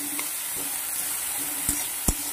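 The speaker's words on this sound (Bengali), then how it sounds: "হালকা একটু ভাজা ভাজা হোক, মিডিয়াম ভাজা" Onion, ginger and garlic frying at medium heat in a pan give a steady, close hiss of sizzling with a couple of light pops.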